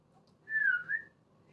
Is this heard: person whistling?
yes